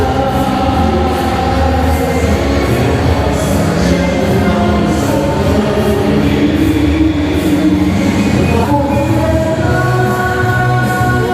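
A ride-on train at Ayala Mall in Cebu rolls along with a loud, steady rumble and faint rhythmic rattling, close and continuous with no talk.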